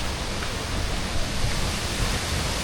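Aliw Falls, a waterfall in Luisiana, Laguna, rushes with a strong current. The water makes a dense, steady, broadband roar that stays close and constant throughout, with no speech.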